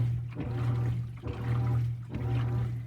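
A 2018 GE 4.6 top-load washer runs its wash action, churning water in steady sloshing surges that come in rhythmic waves over a constant low motor hum, close and fairly loud.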